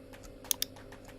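Computer keyboard keys tapped and clicked while editing in Creo CAD software, a few soft scattered keystrokes with two sharp louder clicks near the middle, close and alone.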